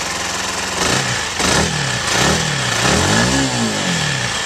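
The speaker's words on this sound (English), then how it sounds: "Simple ignition start." A Yamaha WRX125 125cc motorcycle engine runs close by, revved in a series of short rising and falling blips over a steady idle, loud and alone.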